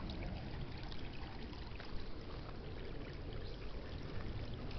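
Steady broadband rushing of Penasquitos Creek in San Diego, continuous and close, with no voices, like a creek running over stones in an oak and willow glen.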